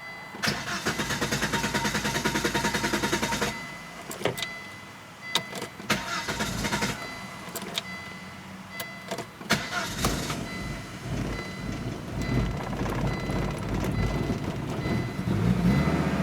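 A warmed-up Volvo 850 GLT engine cranks and catches, then runs roughly and unevenly, with loud, sustained mid-range engine noise, sharp bursts, and surging revs as the throttle is feathered.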